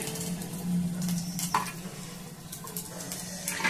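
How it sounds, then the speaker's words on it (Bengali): A papad fries in hot oil with a steady, close bubbling sizzle, along with faint scraping and stirring sounds. "এইভাবে আমি একটা একটা করে ভেজে নেব"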